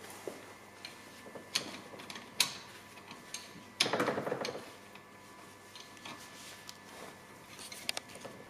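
A wrench loosens a mount bolt on a Civic Type R FK8, with faint ratcheting clicks and ticks spread through the clip and one brief, louder grinding rasp near the middle.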